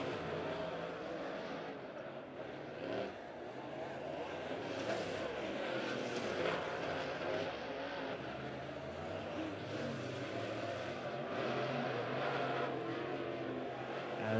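A-Mod dirt track race cars roar around Midway Speedway, a steady, distant engine drone with rising and falling passes and no talk.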